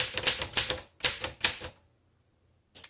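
Keys striking on a 1928 Royal 10 antique typewriter, two bursts of rapid, sharp mechanical clacks close by, followed by a quiet pause and one more keystroke at the end.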